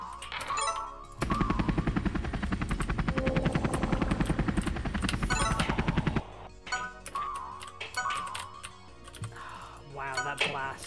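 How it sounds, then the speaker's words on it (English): A helicopter power-up whirs in the marble-rolling game Marble Blast, a steady loud rapid fluttering drone lasting several seconds amid game sounds and music, then cutting off into lighter game effects. "Helicopter."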